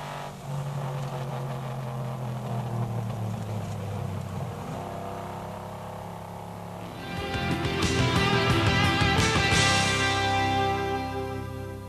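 Race car at Road Atlanta easing off and braking into a corner, engine note falling through downshifts, then surging loudly as it accelerates out, a rising high-revving roar near and alone with no talk.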